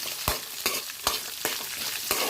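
Whole cumin and coriander seeds sauté in a pan, soft steady sizzling broken by regular scraping strokes of a spoon roughly every half second.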